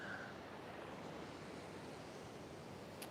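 Steady broadband surf from ocean waves on the San Diego oceanfront, a continuous wash with no distinct breaks, heard alone at low level.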